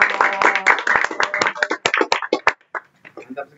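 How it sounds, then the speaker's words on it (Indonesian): A small group clapping on request during an Indonesian talk-show style program, quick irregular claps over a few seconds, close and mixed with voices, fading into sparse taps. "Tepuk tangan dong."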